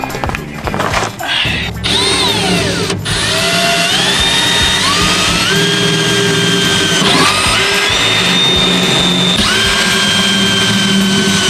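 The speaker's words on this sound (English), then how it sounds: "I'm gonna use this 1/8 drill bit and I'm gonna drill some pilot holes for these self-locking bolts." Power drill boring 1/8-inch pilot holes for self-locking bolts in a Ford Transit van for a side ladder, loud whining motor with rising and falling pitch after a few clattering knocks, running nearly continuously up close.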